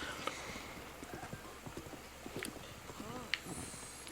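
Rapid clip-clop of horse hooves in a quick galloping rhythm from the video game Zelda: Breath of the Wild, faint and steady over a soft background bed.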